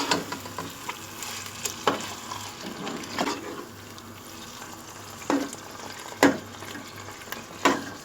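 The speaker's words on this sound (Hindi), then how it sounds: "ये हमने पालक को पतीली में गोश्त की शामिल कर रहे हैं। अब हम मिक्स करेंगे।" Spinach is stirred into a pot of cooked mutton for palak gosht, a soft background simmer broken by intermittent scraping and clunking of a spoon against the pot.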